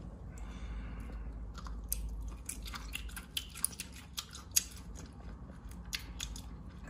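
Scissors snip pieces from the head of a cooked cat's eye snail. A handful of faint, crisp cuts sound close up against a quiet background.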